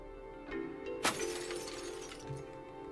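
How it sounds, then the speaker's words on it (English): Glass smashing in the video game Soulset, one sharp shatter around the middle over quiet ambient game music, with a short tinkling tail afterward. "Smashing glass is a bad idea."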